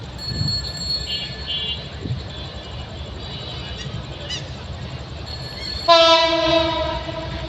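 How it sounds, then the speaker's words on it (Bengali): A train passing at night near a market and flyover works rumbles steadily with faint distant horn tones, then lets out a sudden loud, close horn blast near the end that holds for over a second. "এই যে ট্রেন আসছে।"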